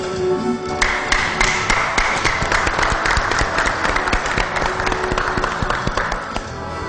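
An audience breaks into applause after a live song, a dense, steady wash of many hands clapping with sharper individual claps standing out. It stays fairly loud and holds through the whole stretch with no talking over it.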